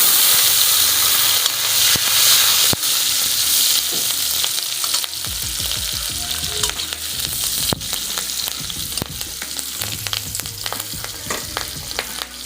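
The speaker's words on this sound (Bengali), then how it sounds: "এখন দিয়ে দিব কুচি করা লঙ্কা," Chopped green chillies sizzle and crackle in hot frying oil, a loud steady hiss with sharp pops and occasional stirring clatter.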